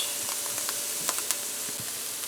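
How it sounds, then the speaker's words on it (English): Scallions, celery and broadleaf thyme fry in a pan for veggie fried rice, giving a steady, even sizzle with a few faint clicks of stirring. "So you need to fry it once you've added your scallions and so on."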